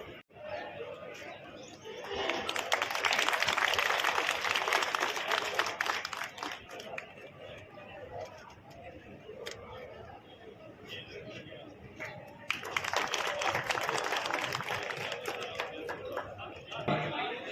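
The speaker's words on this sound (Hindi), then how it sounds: "कम से कम तालियों से स्वागत करें उनका प्लीज," Audience of advocates at a Rajasthan High Court Advocates Association insurance policy launch and felicitation, clapping to welcome a guest in two swells amid crowd chatter and talk, the second burst rising near the end.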